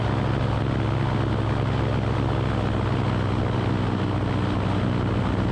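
A seaplane's engine drones steadily and loudly throughout a water landing on the step, a dense continuous roar with a low propeller hum underneath and no break or change in intensity.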